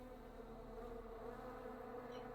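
Bees buzz in Kingsmouth, a video game town, as a steady low droning hum with layered tones, continuous and fairly quiet throughout.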